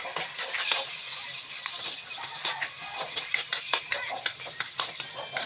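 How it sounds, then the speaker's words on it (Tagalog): Garlic and onion sauté in a hot pan at home, a steady sizzle punctuated by a run of quick, close spatula scrapes and taps against the pan that grow busier toward the end. "gisahin na natin. Syempre, unahin natin yung ating wangba at onion"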